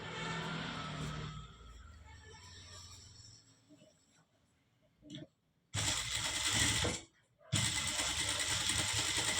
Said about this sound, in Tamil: இப்படி பின் பண்ணிவிட்டு நம்ம பேக் நெக்கு தைச்சிடலாம்.